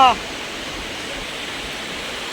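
A monsoon waterfall in a village near Dapoli, Konkan, roars as a loud, steady rush of falling water, with a brief voice at the very start.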